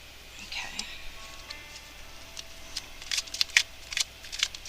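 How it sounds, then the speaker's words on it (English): Tarot deck shuffled close by in quiet, scattered flicks and soft papery snaps that grow into a brief cluster of sharper riffles toward the end, with no voices. "Let's get some more cards."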